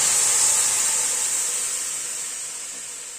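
Dal made with matar lentils hits a hot pan and sizzles in a steady bright hiss that slowly fades, with no voices.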